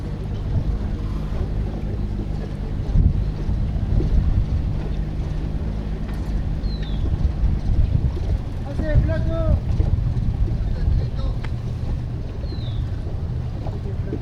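A boat runs on the water at Berisso near La Plata, Argentina, its low engine drone steady under heavy wind buffeting on the microphone, with someone talking over it and faint bird calls.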